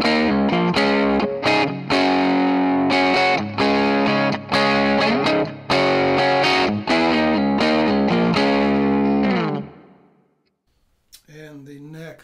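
A Novo Serus Athena electric guitar on its middle pickup position plays a loud, distorted riff of chords and chugged notes, close and alone, before a brief pause and a short spoken phrase at the end.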